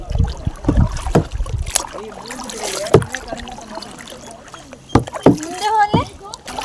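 Kayak paddled on a river at Kemmannu, paddle strokes splashing and dripping in irregular bursts close by, mixed with wind noise, while people talk and call out over the water.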